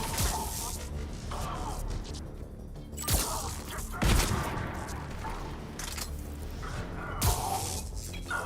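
A grenade blast in a first-person video game, heavy booming crashes amid continuous gunfire and shattering debris, loud and dense throughout with a few sharper impacts standing out.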